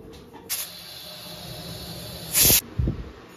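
A pressure cooker boiling matar dal with salt vents steam in two short bursts of sharp hissing, the second louder and longer, followed by a faint thump, heard close in a quiet kitchen with no talking.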